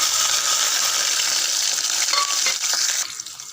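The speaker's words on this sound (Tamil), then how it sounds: "லைட்டாக வதக்கி விடுங்க." Shallots and curry leaves sautéing in hot oil in a pan, a loud, dense sizzle close up with faint stirring scrapes, easing off near the end, no voices.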